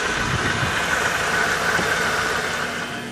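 A Lincoln Continental engine idles steadily after a cold start, a constant close rumble with faint knocking texture running the whole time, easing slightly at the end.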